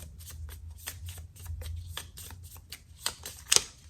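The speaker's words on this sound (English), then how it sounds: "Easy to shuffle." Cards being shuffled by hand, a rapid riffle of soft flicking taps repeating in bursts, close and fairly quiet with no talking.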